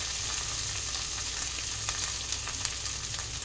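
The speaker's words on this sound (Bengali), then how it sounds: "আমি এটা আদাটা জাস্ট একটু নাড়াচাড়া দিয়ে নেব" Ginger sizzles steadily as it is stirred and fried in a pan, a continuous close hiss with faint scraping throughout.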